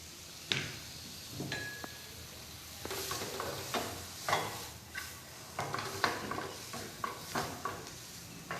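Onion and chopped garlic fry in a pan, a quiet sizzle under repeated scraping and stirring clatters that come every second or so, all fairly faint and close.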